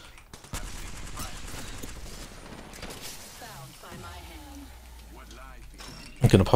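Enemy gunfire in Apex Legends crackles in bursts under game mechanism clicks and a player's talk, with a louder, closer burst at the end.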